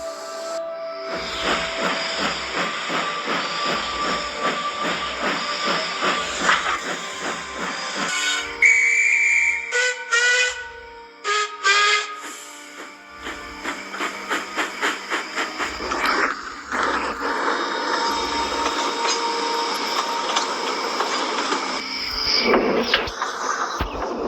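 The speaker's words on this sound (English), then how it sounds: "As the twin engines double-headed the passenger train out of sight, Andrew and Benjamin oiled back" Two double-headed steam locomotives pulling a passenger train chuff and hiss loudly with rhythmic exhaust beats, a sharp whistle blowing briefly midway, then heavy chugging resumes as the train keeps moving.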